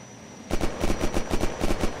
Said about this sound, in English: Oh, oh, gunshots?